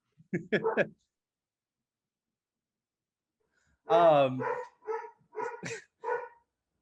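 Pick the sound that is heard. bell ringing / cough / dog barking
dog barking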